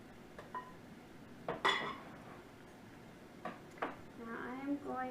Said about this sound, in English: Use my bowl scraper to bring the dough out onto my work surface